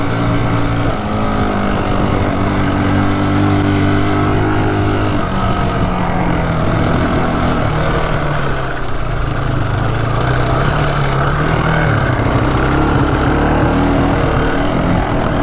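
A broken ATV driving down a path, its engine droning loud and steady throughout with shifting low tones as the pace changes, close by and without voices.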